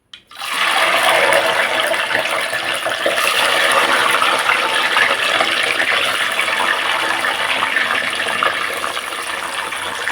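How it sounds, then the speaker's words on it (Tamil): Turkey berries go into hot oil and set off a loud, steady hissing sizzle that starts abruptly and continues unbroken for about ten seconds. "எண்ணெய் காஞ்சிருச்சு சுண்டைக்காய் போட்டு"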